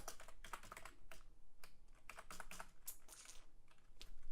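Fingers typing on a computer keyboard, a quick irregular run of light clicks and clacks close by, with short pauses between bursts and no voices.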